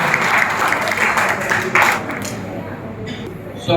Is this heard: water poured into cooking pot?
no